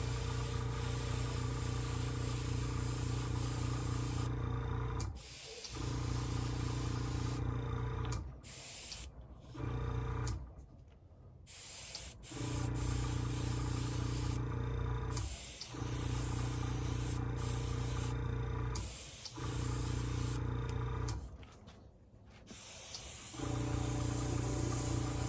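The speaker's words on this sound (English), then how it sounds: "we're going to go ahead and spray a nice light coat over" Spray paint hisses from an aerosol can, laying a light coat over a model car in a series of long, steady bursts separated by short pauses, close and continuous.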